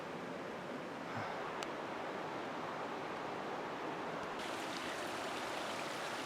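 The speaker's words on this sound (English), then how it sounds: "Crossing a small creek that feeds into the river." Small creek running into a river on a forested New Zealand hiking trail, a steady broadband rush of flowing water heard close and continuous with no voices.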